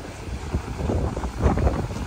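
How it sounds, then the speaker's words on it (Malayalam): Strong sea wind on the coast at Kanniyakumari buffets the microphone in low rumbling gusts, with rough surf behind it and no voices. "നല്ല കാറ്റുണ്ടാവേ"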